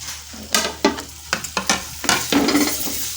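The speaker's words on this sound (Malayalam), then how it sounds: "നേരത്തെ കട്ട് ചെയ്ത് വെച്ചിരുന്ന തക്കാളി ആഡ് ചെയ്ത് കൊടുക്കുകയാണേ" Chopped tomatoes go into roasted spice powder in a pan for a thick sardine chilli curry and get stirred, a series of loud wet scraping and sizzling strokes in an uneven rhythm, close and without speech.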